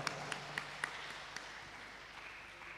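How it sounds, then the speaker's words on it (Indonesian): An audience at a national student legislative training event gives faint applause for the organizing committee, a few distinct sharp claps at first, then thinning into a soft, distant patter. "Tepuk tangan untuk rekan-rekan panitia."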